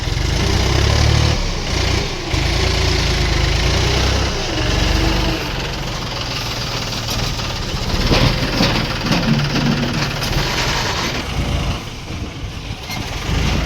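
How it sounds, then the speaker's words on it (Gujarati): A tractor loader's engine runs loud and close, rumbling steadily throughout while its tyres slip. "ટ્રેક્ટરના લોડરના ટાયર પણ સ્લીપ મારી ગયા છે."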